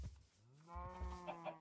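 Cattle mooing in modded Minecraft, a video game: a single drawn-out, harmonic moo rises partway through and holds steady to the end, fairly close and clear, with no talking over it.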